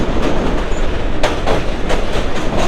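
A train rumbles loudly past close by as it crosses a rail bridge over a river, its wheels clattering in a rhythmic clickety-clack over the rails.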